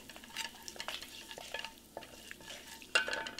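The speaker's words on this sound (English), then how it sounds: "stir it" A spoon stirs red chili and asafoetida, with fenugreek seed and red chili powder, through hot oil in a pan for spinach yogurt kadhi, giving close, irregular scrapes and clacks over a light sizzle, with no talk.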